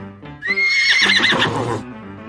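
A horse neighs loudly and close in a children's story, one long rising whinny with a shaky, fluttering tail that fades into a brief snort, heard alone.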